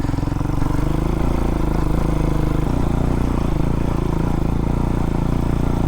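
A Hawk-X 250 motorcycle engine runs continuously while riding roads and trails, a steady mid-pitched drone with slight variations in revs. It is close and loud, with no voices.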